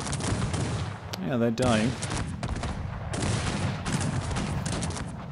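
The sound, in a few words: gunfire from the video game Cossacks 3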